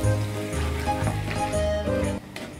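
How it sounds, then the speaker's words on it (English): Garlic and ginger stir-frying in a pan until crispy, a loud continuous sizzle with spatula scrapes and stirring knocks throughout, dropping slightly quieter near the end, with no talking. "Continue to stir fry these 2 ingredients until it becomes crispy."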